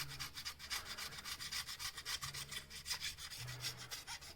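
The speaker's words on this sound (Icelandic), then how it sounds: "Ég byrja á að skafa þetta með svona flötu nýsblaði." A flat blade scrapes old gasket residue from the surface of a Nissan Patrol RD28T diesel engine, giving steady, repeated rasping strokes close by with no talk.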